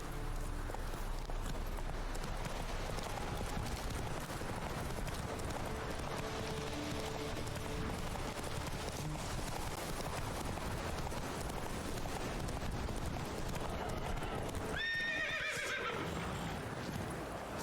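The horse Roach in a video game, heard as dense hoofbeats and ambient rumble throughout, with a clear, loud whinny near the end.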